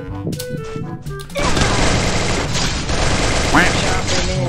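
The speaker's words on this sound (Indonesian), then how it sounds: "Langsung sekali tembak guys" M4A1 rifle shots in the video game Free Fire, a few quick shots at first, then a loud, dense stretch of sustained gunfire and crashing impacts, with a voice talking over it.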